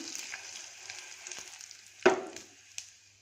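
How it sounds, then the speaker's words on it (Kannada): Spices for tempering crackle and sizzle in hot oil, with a sharp pop or stir clatter midway and a steady frying hiss underneath. "ಇದು ಒಗ್ಗರಣೆ ಸ್ವಲ್ಪ ಚೆನ್ನಾಗಿ ಫ್ರೈ ಆಗಲಿ"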